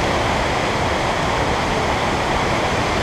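A waterfall in North Wales roars from close range, a loud, dense, unbroken rush of falling water that fills the whole stretch with no voices.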